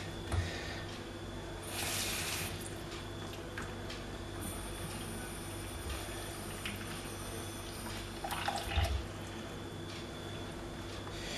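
Water is poured slowly into the tank of an iRobot Braava Jet 240 mopping robot, a faint, quiet trickle and splash with a few louder spurts.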